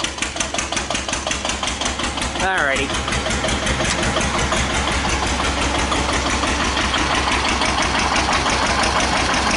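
A 1941 Witte single-cylinder diesel on a Dieselectric generating plant runs with a loud, rhythmic chuffing exhaust report, steady and close; someone speaks a single word briefly over it.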